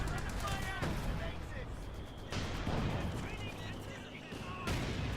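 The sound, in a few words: RAF bombing runs and artillery fire in Company of Heroes 2 video game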